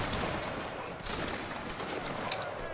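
Massed musket volley fire in a Waterloo-era battle video game, a dense, continuous crackle of overlapping shots with sharper bursts standing out, loud and close, with no clear speech over it.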